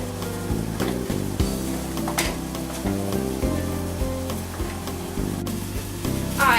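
Fish frying in a pan, a steady sizzle under background music with tonal notes, no talking.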